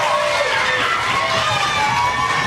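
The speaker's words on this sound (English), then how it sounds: "a big crowd out there who's cheering for you" A large studio audience at a Double Dare game show roars and cheers steadily for a contestant team, a dense, continuous wall of crowd noise with no pauses.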